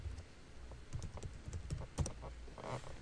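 Keys tapped on a computer keyboard to type a command-prompt command, a run of light irregular clicks and taps close by with no speech.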